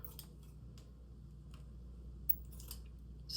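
Scissors snipping hanging ties on a thrifted grapevine basket nest, a few quiet, scattered clicks and snips close by with a soft crunch near the end.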